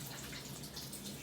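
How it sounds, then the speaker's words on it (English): Filtered water runs and splashes over hands at a kitchen sink while making beef empanada dough, a soft continuous faint trickle with no talk. "I'm going to quickly wet my hands to make this job easier, and I'm using some filtered water"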